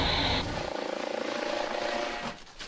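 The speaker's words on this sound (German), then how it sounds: "Der Hubschrauber fliegt zurück ans Ufer." Helicopter of the German Federal Police flying back toward the shore during a water rescue exercise, a steady loud rotor and engine drone that holds throughout with a slight rhythmic pulsing, no talking.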